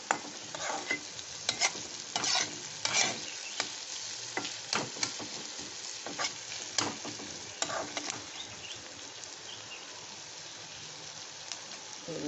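Onions fry in a pan with a steady soft sizzle, punctuated in the first half by scraping stirs of a utensil, then settling into sizzling alone.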